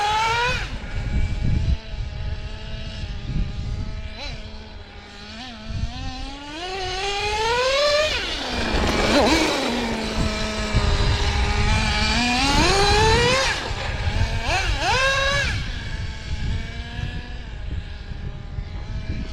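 RC10GT car with a Traxxas 3.3 nitro engine running, a loud high-pitched buzzing whine that rises and falls in pitch as it revs up and down, continuous and close throughout.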